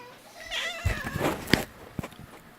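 A cat meows several times close by, drawn-out and whiny, with a couple of sharp thumps in between.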